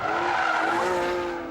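A GT3 race car sweeps through a curve on a fast, tight circuit about 3 kilometres long, its tires squealing loudly and continuously over the engine's strained drone, close and sustained with no talk.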